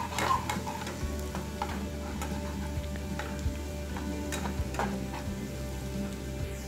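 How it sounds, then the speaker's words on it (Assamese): Ginger-garlic paste and turmeric frying in a pan, giving a steady close sizzle with occasional stirring scrapes and light ticks throughout, no voices. "কেঁচা গোন্ধটো যোৱালৈকে মই 2 মিনিটমান ভাজি আছো।"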